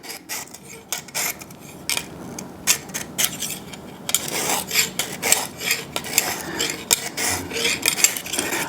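A knife blade held in a clamp is drawn by hand across a Lansky sharpening stone, giving repeated close, dry rasping strokes in an uneven rhythm that grow denser and louder partway through.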